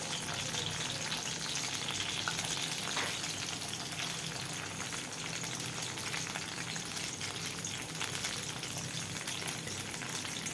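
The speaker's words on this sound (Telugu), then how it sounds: "బ్రౌనిష్ కలర్ వచ్చే వరకు ఆనియన్స్ని ఆయిల్లో ఫ్రై చేయడం జరుగుతుంది." Onions fry in hot mustard oil in a basin for a spicy Andhra mutton keema, giving a steady, dense sizzle and crackle throughout. The sound is close and constant, with no talking.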